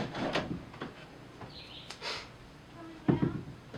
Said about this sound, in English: Putting in some drawers and filming.